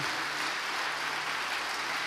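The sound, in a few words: church congregation applauding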